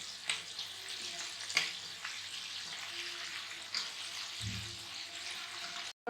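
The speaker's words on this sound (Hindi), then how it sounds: "इसको हम 6-7 मिनट ऐसे ही फ्राई करेंगे, फिर निकालेंगे इसको।" Pieces of chicken deep-frying in hot oil, a steady close bubbling sizzle with a few sharp spatters and a brief low knock of a utensil, no talking.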